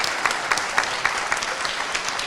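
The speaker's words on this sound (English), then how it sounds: "Please give them a round of applause." Steady applause from an audience at a high school spring band concert, dense clapping with a few louder claps standing out, filling the space evenly with no voices.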